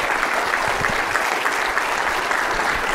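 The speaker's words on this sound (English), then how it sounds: "please welcome and thank the Secretary with a round of applause" Loud, steady round of applause from a conference audience welcoming the Treasury Secretary, dense clapping that holds unbroken with no voices over it.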